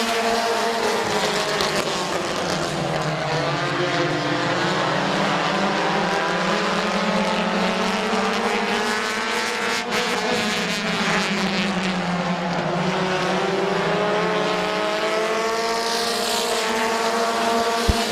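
Race cars at Midvale Speedway roar loudly and continuously, with several engines running close together, their pitch rising and falling as they pass through the turns.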